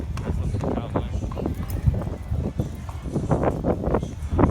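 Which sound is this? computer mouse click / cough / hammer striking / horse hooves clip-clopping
horse hooves clip-clopping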